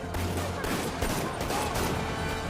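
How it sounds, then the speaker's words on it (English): Sustained bursts of gunfire pour at Rhino in Marvel's Spider-Man on PS4, a dense, loud fusillade of rapid shots layered over game noise throughout. "Why are y'all shooting at it?"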